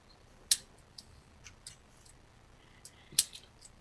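Sharp, distinct clicks of a pen during a tabletop role-playing game session, two louder snaps about two and a half seconds apart with fainter ticks scattered between them, fairly quiet with no talking.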